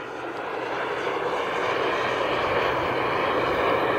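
A radio-controlled jet aircraft flies overhead with its engine throttling down, a steady broad roar that holds loud and continuous throughout.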